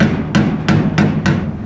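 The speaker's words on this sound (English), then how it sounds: "So I just took our hammer" A hammer taps a bent steel floor pan on a 1972 Plymouth Duster, four sharp metallic strikes at a steady rhythm, loud and close with no talking.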